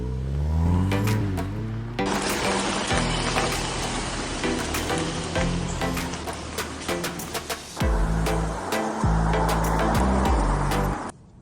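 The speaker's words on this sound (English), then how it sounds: "We're going to take the car for a short drive, and you'll be able to hear the exhaust" A Volkswagen Golf R's engine and exhaust drone steadily as it drives, with shifting pitch as it revs and changes gear, plus some mechanical clicks throughout.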